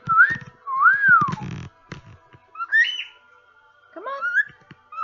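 A pet cockatiel whistles and sings in bright, sliding, rising and falling phrases, close by, with short gaps and soft clicks and rustles between the tunes.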